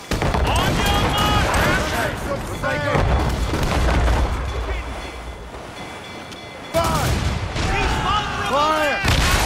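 Ship cannons fire in the Assassin's Creed Rogue naval game, booming in deep heavy blasts that overlap with shouted voices and ambient battle noise, with a brief quieter lull before the barrage resumes.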